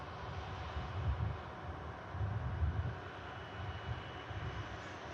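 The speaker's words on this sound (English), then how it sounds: "Is that Virgin Atlantic Airbus A330?" A Virgin Atlantic Airbus A330 at Manchester Airport gives a low, distant engine rumble that swells and fades in soft waves, faint and steady, with no voices.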